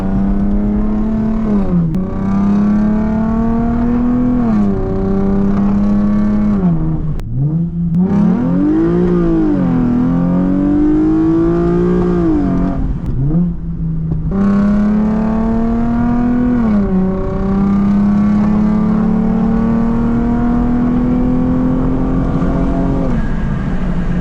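A Lexus IS350 engine revs hard while driving on an early morning run to a Cars and Coffee meet, loud and close, climbing and falling through gears with sharp rises and dips in pitch.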